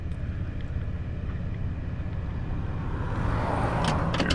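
A ferry unloading vehicles at the dock, a steady low engine and vehicle rumble with wind buffeting the microphone, rising slightly louder near the end as traffic rolls off.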